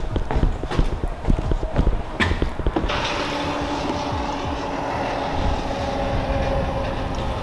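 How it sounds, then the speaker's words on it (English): A big metal object, something like a stop sign, scrapes across gravel outside an abandoned farmhouse, a harsh continuous grinding drag that follows several irregular knocks and thuds and continues steadily with no talking. "It sounds like someone's dragging a big metal like stop sign or some shit across gravel."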